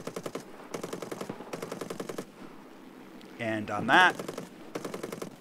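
Aircraft machine guns in War Thunder fire from a 2C Bis biplane in three rapid bursts about a second long each, then a fourth after a pause, with a short talking voice and a brief whining mechanical sound in the gap.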